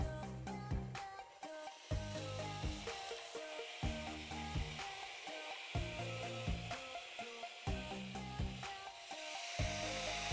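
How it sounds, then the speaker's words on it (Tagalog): A Flydigi B6X magnetic phone cooling fan running at its maximum setting gives a steady airy whir that continues through the whole stretch, heard faintly under looping background music. "ang lakas nitong FlyDigi B6X cooling fan"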